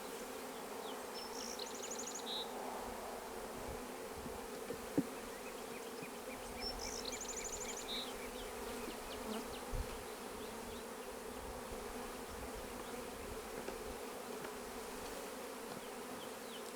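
Honeybees buzz in a steady, soft drone around open hive frames during a colony installation, with faint bird chirps in the background and an occasional knock.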